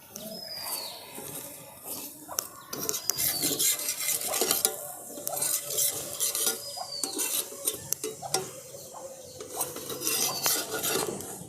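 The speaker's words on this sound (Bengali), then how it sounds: "এগুলোতেও আবার একটুখানি করে তেল দিয়ে দিচ্ছি।" Potato rumali paratha frying in oil in a hot pan, with a soft sizzle beneath frequent spatula scrapes and clinks against metal.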